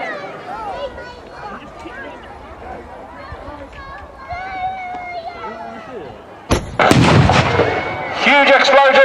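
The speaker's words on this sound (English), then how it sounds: "Huge explosion there" A T-55 tank's 100mm main gun fires at a military vehicle display, a sudden loud blast and rumbling explosion that bursts out near the end over crowd murmur and an announcer's talk.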